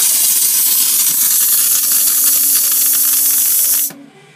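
Water rushes steadily from a bathroom faucet in a Jayco RV trailer being winterized, a loud, even hiss that runs for about four seconds before cutting off abruptly.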